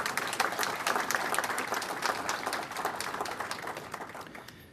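Audience applause fills a transit awards ceremony hall, a steady dense patter of many hands clapping at moderate distance, slowly tapering toward the end.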